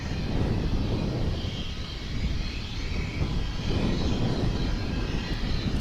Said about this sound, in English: Here's a flight coming in over on the east side from LaGuardia Airport in the New York City